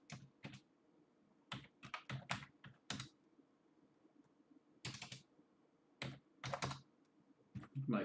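Typing on a failing computer keyboard comes in close, irregular bursts of crisp key clicks separated by short pauses, with no talking.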